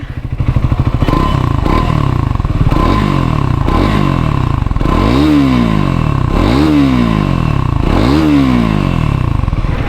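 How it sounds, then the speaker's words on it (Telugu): A motorcycle engine runs loud and close, its exhaust beating steadily while revs rise and fall in repeated swells, with some clatter. "ట్రయంఫ్ స్క్రాంబ్లర్ 400X తోలుతాం మనం ఇప్పుడు. ఒకసారి బీటింగ్ వినండి."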